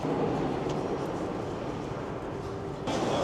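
A steady, loud rumble of a moving London train heading from Liverpool Street to Barbican fills the whole stretch, with a brief hiss rising near the end and no talking.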